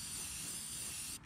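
A spray can releases a steady, close hiss of spray paint for about a second before stopping with a small rattle at the end.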